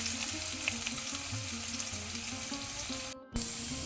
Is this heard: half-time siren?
no